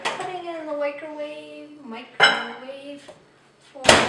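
A mug of brownie batter is set into a microwave, with a couple of hard ceramic clunks under a person talking.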